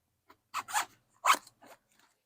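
A toiletry bag's front zipper is pulled open in a few short, rasping bursts, close and fairly quiet, with no talking.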